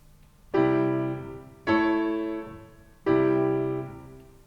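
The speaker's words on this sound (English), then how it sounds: "if I were to just block the chords on the piano" Three separate piano block chords, each struck together and left to ring and fade, with short gaps between them.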